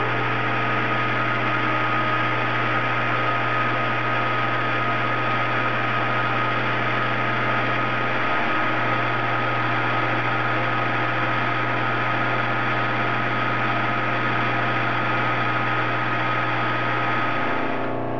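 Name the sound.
lathe taking a slow finishing cut on a muzzle brake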